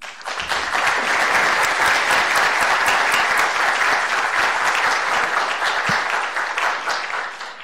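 An audience applauds to welcome speaker Kenneth Feinberg at an evening talk, a loud sustained burst of clapping from a full room that swells quickly and fades near the end.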